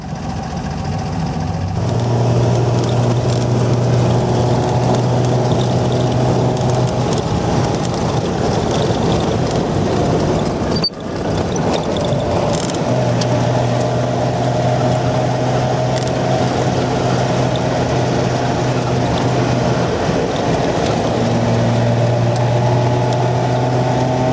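A car runs laps on a race track near Kiev. A steady engine drone is heard from inside, rising and shifting pitch a few times as the car accelerates and changes gear, loud and continuous throughout.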